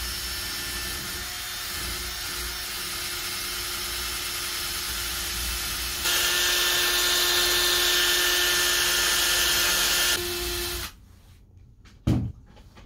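A drill spins a hard wire brush against surface rust on a boat shaft coupling. It makes a steady, close grinding whir that grows louder midway, stops near the end, and is followed by a single knock.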